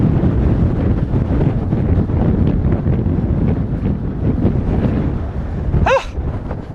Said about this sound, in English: How is it so windy here?